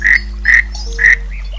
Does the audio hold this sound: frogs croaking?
yes